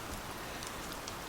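Steady rain falls outdoors as a soft, even hiss of drops on surfaces, faint and continuous with no voices.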